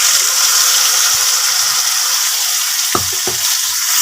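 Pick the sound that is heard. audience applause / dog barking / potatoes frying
potatoes frying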